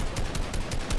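Gunfire rattles in Fortnite as players shoot at a UFO mothership, a fast, dense run of shots that stays loud and near for the whole brief moment.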